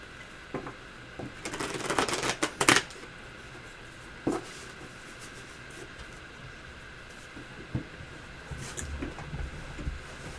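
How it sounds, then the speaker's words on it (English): Tarot cards are shuffled in a quick riffling burst, followed by a few isolated taps and soft shuffles against a quiet room hum. "One more shuffle."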